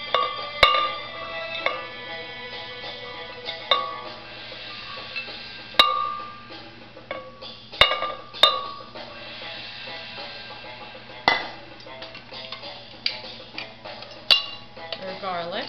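Dry chickpeas dropped into a blender jar for hummus, giving scattered sharp clinks and rattles against glass at irregular intervals, fairly close and moderately loud.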